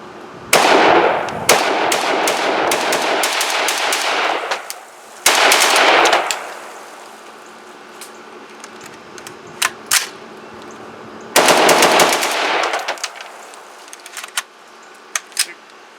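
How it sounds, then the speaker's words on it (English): Bursts of rapid gunfire from a Palmetto State Armory AR-15 A4 rifle shooting brass-cased ammunition, loud strings of shots separated by pauses with scattered single reports and faint clicks between them. "Here is his gun running with brass case."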